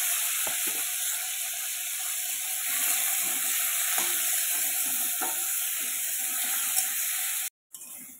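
One onion and one tomato fry in oil in a wok, a steady close sizzle with a few scraping stirs of the spoon, ending in a brief cut.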